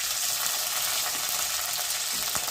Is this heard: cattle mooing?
no